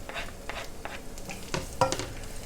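Grated carrots for chow mein sauté in a pan alongside cabbage and onions, giving a soft steady sizzle broken by several scraping stirs and a light clink near the end.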